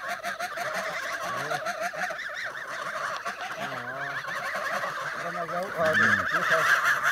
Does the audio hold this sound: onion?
no